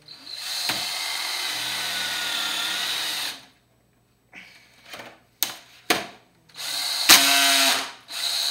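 A power drill bores into a laptop in bursts: a long steady whine for about three seconds, then a pause followed by several short stuttering runs and a final sustained burst, loud and close.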